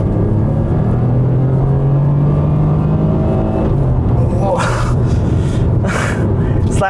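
A BMW 218i Gran Coupe pulls hard under full throttle in sport mode, its engine drone building steadily and close by, with a voice talking over the rising note.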